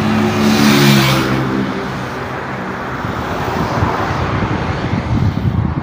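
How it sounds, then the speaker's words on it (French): Vehicles drive past fast on the busy Dabou road beside the Gesco wholesale market, a steady loud roar of traffic with a nearby vehicle surging in the first second, then continuous rumbling flow. "Vous voyez comment les véhicules circulent ici."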